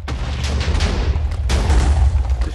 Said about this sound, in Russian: И взрываем вот это вот место тоже все.